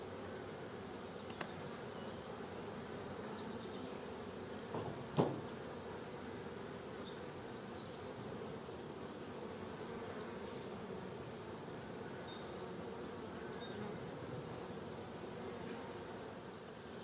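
Honeybees hum in a steady, dense drone from an opened beehive on an early spring inspection, close and continuous with a faint tap or two and occasional buzzing passes, with no talking.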